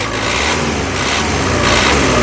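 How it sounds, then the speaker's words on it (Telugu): A 2018 Renault Duster RXZ idles with a steady, even engine hum throughout and a faint whine, close by and constant, with no voices. "ఇంజన్ యొక్క నాయిస్ చాలా సైలెంట్గా అయితే ఉందండి"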